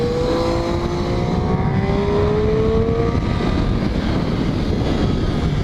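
A motorcycle engine accelerates hard on a counterclockwise lap of Thompson Speedway in Connecticut, its steady rising whine and drone heard close and loud through heavy wind rush, with no talking.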